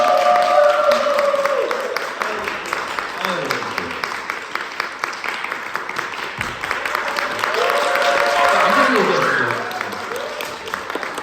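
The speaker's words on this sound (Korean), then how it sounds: "큰 박수" A talk-concert audience in Jecheon claps to welcome a local traditional arts troupe leader and citizen award winner, with sustained clapping that swells and fades while a host talks over it.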